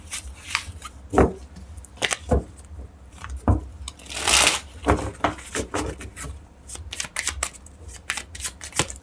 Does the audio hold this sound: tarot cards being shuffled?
yes